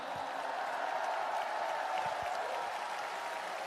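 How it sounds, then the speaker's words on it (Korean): At a Korean political party event, a crowd in a hall applauds with steady, dense clapping that holds at an even level for a few seconds with no pauses. "박수 한번 부탁드립니다."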